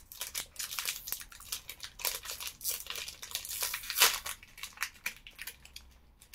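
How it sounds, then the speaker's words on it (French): A packet is torn open by hand, its wrapper crinkling and crackling up close in a busy, continuous rustle with a few sharper tearing snaps. "je vais ouvrir le paquet"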